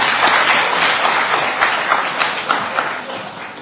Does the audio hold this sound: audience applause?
yes